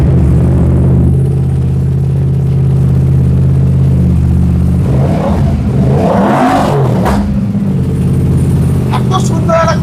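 An Aprilia GPR motorcycle with a full titanium exhaust system revs in a loud, steady rumble that swells mid-clip into a rising throttle blip before settling back to idle, with a voice talking over it.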